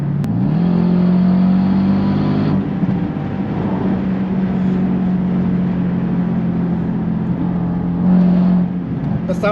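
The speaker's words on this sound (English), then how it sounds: "The sound of this car is very, very addictive, especially the pops and bangs you get on the overrun." Jaguar XF R (X250) V8 engine droning steadily at high revs in a sustained near, loud tone, easing briefly before rising again toward the end.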